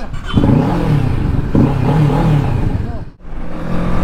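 A Kawasaki Z650 motorcycle starts and revs hard, two strong rising engine pulls close by, then a brief cutoff and a steady idle.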